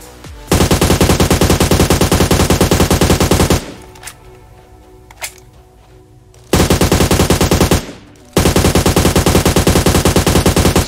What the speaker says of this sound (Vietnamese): Rồi, bộ bim mà cầm khẩu vào khẩu AUG này thì nó là hack không giật rồi